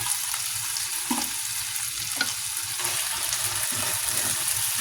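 Corned beef sautéing in a pan gives a steady close sizzle, with a few light utensil scrapes and stirs breaking through for the whole stretch.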